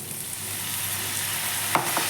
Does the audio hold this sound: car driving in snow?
no